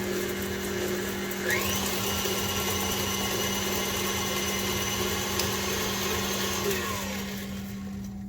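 A kitchen appliance, likely a blender or mixer, whirs steadily and loudly while mashing three bananas with sugar for banana bread, a constant motor drone with a brief pitch shift early on.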